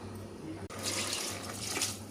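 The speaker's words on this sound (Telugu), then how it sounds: "నీళ్ళు వేసేస్తున్నాను." A short burst of water pouring steadily into a cooking pot of salted meat, close and fairly quiet, starting abruptly after a brief pause.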